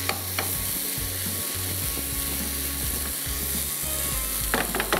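Pasta being fried with tomatoes in a pan over a gas flame gives a steady, loud sizzle with stirring scrapes and clicks throughout, plus a low hum underneath.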